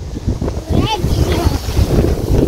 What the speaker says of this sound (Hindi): हवा देखें चल रही है, लेकिन हवा गर्म चल रही है, सेक वाली गर्म।